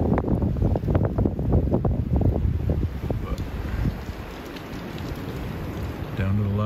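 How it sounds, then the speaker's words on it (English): Strong gusty wind buffets the microphone outdoors during deer season, a heavy rumbling roar in uneven surges that eases slightly toward the end, while someone talks in between. "As you can see, it's still pretty windy out there."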